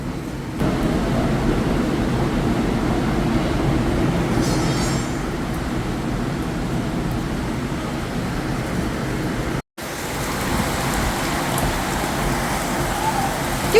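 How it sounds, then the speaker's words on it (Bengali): Steady, dense rain pours down without a break, a constant broadband hiss with no voices, briefly cutting out for an instant before resuming. "অলরেডি বৃষ্টি পড়তেছে বৃষ্টি"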